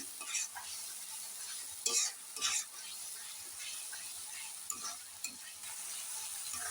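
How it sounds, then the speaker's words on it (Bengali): Cumin paste and spices being stirred and sautéed in a pan, a soft steady sizzle with a few louder scraping strokes of the spoon against the pan, no voices. "সব উপকরণগুলো ভালো করে নাড়াচাড়া করে কষিয়ে নেবেন।"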